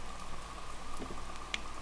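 Steady rain pattering in The Music Machine video game, a dense continuous patter at moderate level with a few small brighter drop-like ticks and no talk over it.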